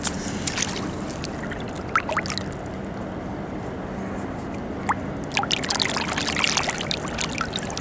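Water splashing and trickling as a clay pipe from the 1800s is rinsed off on the Thames foreshore, light irregular pouring and dripping sounds close by over a steady outdoor background.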